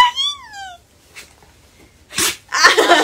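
A short, sharp sneeze bursts out near the end, preceded by a rising whiny vocal sound and followed by breathy noise.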